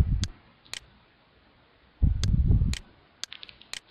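Sharp mouse clicks in Camtasia Studio 7 while turning the volume down, a few isolated clicks spread out, with one short burst of low rumbling noise in the middle.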